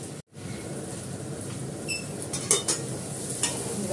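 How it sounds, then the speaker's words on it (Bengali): Potatoes fried with onion, ginger and garlic paste, dry chilli and bay leaf give a soft, even sizzle. A few light utensil clinks and stirring scrapes sit on top, with no talk. "আমি পেঁয়াজ, আলু, আদা বাটা, রসুন বাটা সব দিয়ে, শুকনো লঙ্কা, তেজপাতা দিয়ে আলুটা ভেজে নিলাম।"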